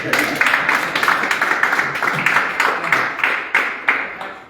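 An audience at a football association's extraordinary congress gives the speaker a round of applause. Dense, loud clapping fills the hall, with a rhythmic pulse running through it from start to finish.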